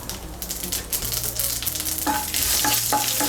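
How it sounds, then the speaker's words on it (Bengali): A bay leaf and half a teaspoon of radhuni spice hit hot oil in a kadai, giving a steady, close sizzle with some stirring. Other tonal kitchen sounds come in toward the end, and no one speaks. "এর মধ্যে দিয়ে দিচ্ছি একটা তেজপাতা, দিয়ে দিচ্ছি হাফ ছোট চামচ রাঁধুনি।"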